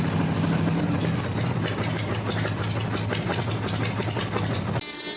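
A 1975 Harley-Davidson Shovelhead FLH V-twin runs steadily with a loud, low, lumpy rumble that holds constant for about five seconds before cutting off abruptly near the end.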